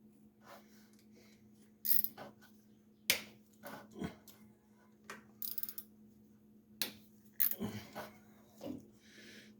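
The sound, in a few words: ratchet cracking timing cover bolts loose on Ford F150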